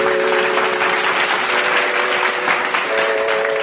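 Loud, dense applause from a stage audience at a devotional music show in Odisha, welcoming the singer; the clapping is steady and sustained throughout, with a held musical tone running beneath it.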